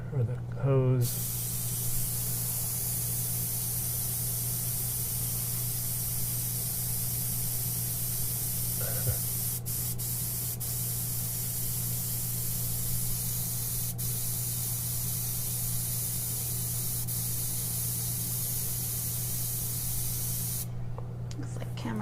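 An airbrush sprays UV body paint through its hose in a steady, close hiss that runs unbroken for about twenty seconds, with a brief voice near the start and a few faint clicks.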